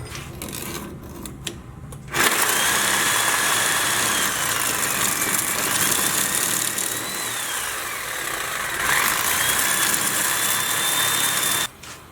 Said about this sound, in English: now I'm going to take my Sawzall and cut this